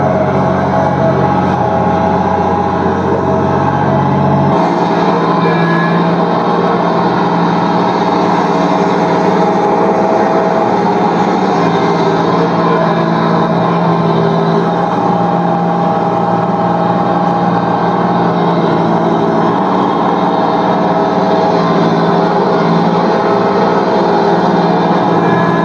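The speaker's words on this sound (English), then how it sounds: "Was that tractor whining or crying, Tim?" A tractor engine straining while pushing against a tree, a loud continuous mechanical drone with a high whining tone, holding steady for a long stretch after a brief shift in pitch early on.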